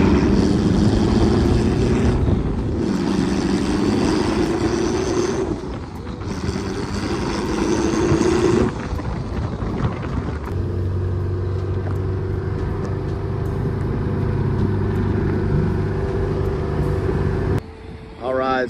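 A turbocharged Honda S2000 rumbles steadily while driving, its loud, bumpy engine drone filling the cabin throughout, with a shift in tone partway through and a brief dip near the end.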